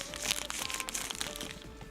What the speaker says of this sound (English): And now I can do more ASMR with the crinkling wrapper.